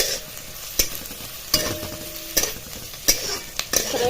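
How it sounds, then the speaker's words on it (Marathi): Onion sautes in a pan for a bazaar-style amti, a soft steady sizzle broken by sharp, regular spoon clacks as it is stirred, roughly one every second. "कांदा चांगला लाल होईस तर परतायचा आहे"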